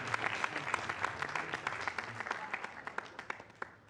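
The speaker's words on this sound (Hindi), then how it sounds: "तालियों से इनको आपको विदा करना है" A live audience at an exam-diet talk event applauds a departing guest with sustained, dense clapping from many hands that carries on steadily, with a few sharper individual claps toward the end.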